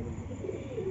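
Soft, low pigeon cooing close by, a brief throaty murmur over a quiet background.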